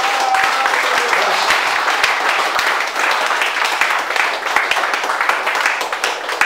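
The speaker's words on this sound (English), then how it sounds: "Yes, clap for yourself." A church congregation claps and applauds together, a dense, loud, sustained burst of many hands with scattered sharper claps throughout.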